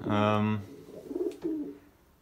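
Belgian racing pigeons in a top loft give a short run of low, throaty coos, opening with one strong harmonic burst followed by softer murmuring calls close by.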